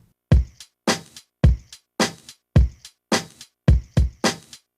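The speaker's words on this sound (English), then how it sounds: "So the drums, kick, snare, hi-hat together." A drum loop of kick, snare and hi-hat in a steady, punchy rhythm, dry and close with short repeating hits.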